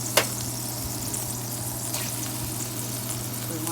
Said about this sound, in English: I'm gonna throw that garlic in.